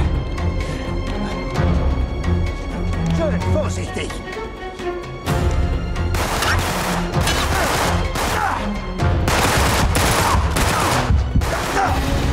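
Gunfire in Uncharted 3: Drake's Deception, quieter shots and game sounds at first, then dense, loud volleys of rapid bursts in the second half, with speech heard in between.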